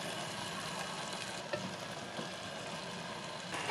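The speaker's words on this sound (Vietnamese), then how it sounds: "Và tiếp tục mình nấu khoảng 2-3 phút vậy đó, và đảo liên tục sát với đáy nồi cho không có bị cháy." Chili oil bubbling and sizzling in a pot while being stirred continuously along the bottom, a steady broadband frying hiss with faint scraping, close and even throughout with no talk.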